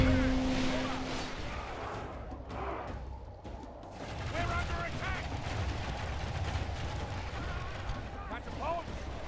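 Medieval 2: Total War battle at Hamburg, with artillery and ranged units firing, a dense rumble of booming shots and crashing impacts layered with faint battlefield noise, steady and fairly loud throughout.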